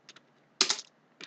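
A handful of quiet, close keystrokes tap on a computer keyboard: two light clicks, a brief cluster of louder presses, then one more tap.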